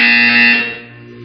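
A loud electronic buzzer from the video game Portal 2 blares steadily for about half a second, then fades away.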